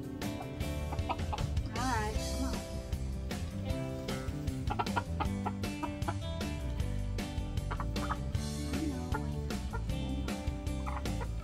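A hen clucks repeatedly while a sweater is fitted on her, close by and busy, with other fowl sounds mixed in and occasional talk.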